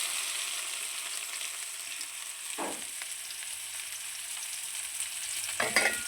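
Onions and spices fry in hot oil with a steady, moderate sizzle. A couple of brief stirring knocks stand out near the middle and the end, and no one speaks.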